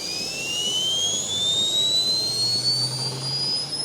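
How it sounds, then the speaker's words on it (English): A homemade turbine built as a second-grade science fair project, driven by compressed air fed through a tube, gives a steady, close, high whine with a smooth rising tone over a constant hiss of rushing air. "This is a turbine. It's running off compressed air, runs through this tube, then it goes through here."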